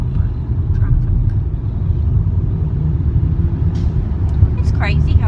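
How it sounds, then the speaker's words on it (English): Inside a car stuck in bumper-to-bumper traffic, a low steady engine and road rumble fills the cabin, with faint high chirps near the end and a voice speaking over it. "we're stuck in bumper to bumper traffic"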